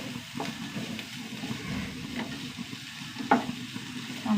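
Tomatoes sautéing in a pan, giving a steady soft sizzle with occasional stirring scrapes and small pops, close by with no talking.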